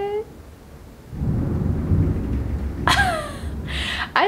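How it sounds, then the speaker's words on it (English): Rolling thunder rumbles low and steady through a thunderstorm in Charleston, heard from indoors, with a brief higher chirping sound breaking in near the end. "I don't know if you can hear the thunder. I hope you can."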